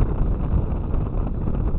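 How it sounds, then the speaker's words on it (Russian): Strong wind buffets the microphone outdoors at a spring feeder fishing spot in a continuous low rumbling roar, with no voices. "ветер всю погоду испортил"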